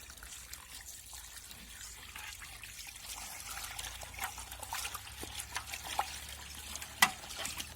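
Water trickles and pours steadily while homemade butter made from cream is rinsed, a close continuous splashing stream with a few louder splashes near the end.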